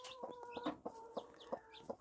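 A broody hen clucks softly in a rapid, rhythmic series of short notes, close but quiet, with nothing else audible.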